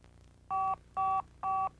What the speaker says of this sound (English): Pressing send or the Smart button will automatically redial the number for up to 4 minutes